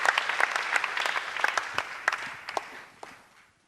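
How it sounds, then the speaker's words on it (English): An audience at a school renewable energy challenge event applauds as Dr. Amankra is welcomed, scattered sharp claps that build briefly and then thin out and fade toward the end. "Please make sure that the applause is loud"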